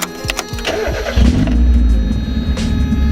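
A Mazda Miata NA engine cranks in a few short starter bursts, then catches and settles into a loud, steady low idle close by.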